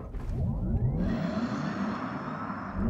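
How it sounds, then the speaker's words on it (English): A Porsche Taycan Cross Turismo electric car launching from standstill, a rising motor whine and road rumble that climbs fast and then holds steady, heard close from inside without voices. "But anyway, let's launch."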